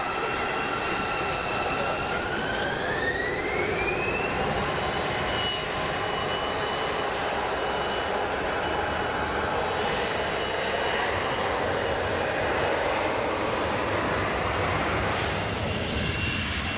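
Jet airliners at Frankfurt Airport produce a continuous broadband engine roar with a rising whine early on, moderately loud and steady throughout, with no voices.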